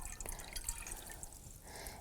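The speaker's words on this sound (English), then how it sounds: "So we're going to pour this right down in" Alum water pours into a dye pot while preparing copper-dyed weft for Chilkat weaving, giving a soft, trickling, splashing run with light drips, close and fairly quiet.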